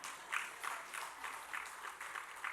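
A church congregation claps together during a Sunday anniversary thanksgiving service, a faint, steady patter of many hands heard from some distance, without speech over it.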